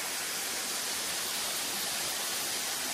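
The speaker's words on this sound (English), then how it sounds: "we are blessed with this beautiful waterfall." Waterfall beside a trail near Bethel on the Appalachian Trail, a loud, unbroken broadband rush of falling water filling the whole moment with no voices.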